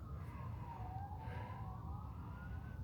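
A wailing ambulance or police siren rises and falls at a distance, heard over steady low traffic rumble in Tyniec, Kraków.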